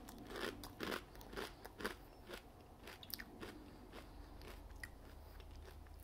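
Quiet, close crunching and chewing of Chex Mix Zesty Taco snack mix, irregular crisp bites and crackles scattered through a few seconds with no talking.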